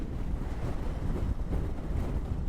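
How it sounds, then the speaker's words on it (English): Heavy wind buffeting the microphone in a constant low rumble, gusting unevenly with no other sounds. "It's a lot windier."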